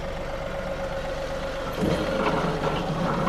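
John Deere 3038E compact tractor idling with a steady droning engine note and a constant mechanical hum, which grows rougher and slightly louder partway through once the PTO engages, close and continuous with no talking.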